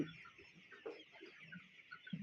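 Hens and roosters kept for eggs cluck softly in short, scattered bursts, faint and somewhat distant, with no voices over them.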